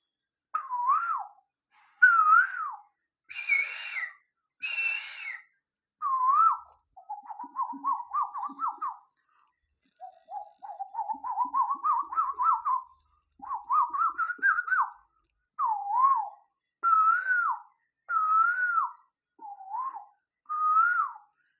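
A person whistles an imitation of the Asian koel's call in a long series of separate melodic phrases, some rising and warbling, with short pauses between them, clear and alone against silence.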